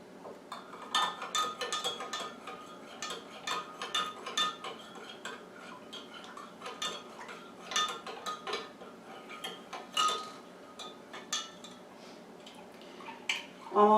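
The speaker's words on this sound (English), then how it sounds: "you're just going to stir this around" A spoon stirs a homemade pink eye remedy mixture in a bowl, giving quiet, irregular clinks and scrapes against the sides, continuous throughout with a louder knock near the end.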